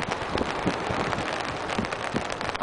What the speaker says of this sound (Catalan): Com es pot sentir pel cap d'aigua, si està plovent.